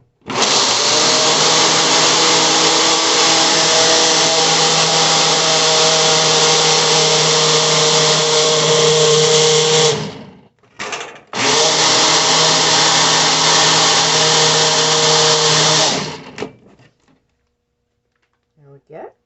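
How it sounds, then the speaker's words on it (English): A loud blender whirs steadily for about ten seconds, cuts out briefly with a short burst, then runs again before stopping. "I'm going to throw this on my blender real quick."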